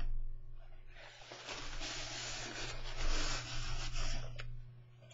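Paper envelope being folded over by hand: a soft, continuous rubbing and crinkling of paper lasting several seconds, close and moderately quiet over a low steady hum.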